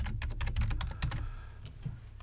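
Quick bursts of typing on a computer keyboard while naming a layer in Vectric design software, a close run of crisp key clicks that thins out toward the end, with no talking.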